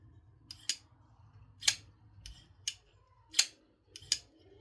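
A folding knife flipped open and shut with a front flipper, giving six crisp metallic snaps at uneven intervals, close and clear against near silence.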